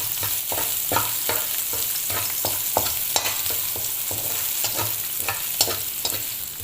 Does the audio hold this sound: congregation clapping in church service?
no